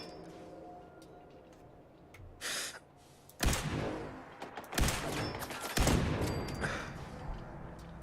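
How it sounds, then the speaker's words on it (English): Laser rifle shots ring out in Fallout 4 gameplay, a few loud bursts over a steady low game ambience, close and with no voices over them. "let's try using our laser rifle"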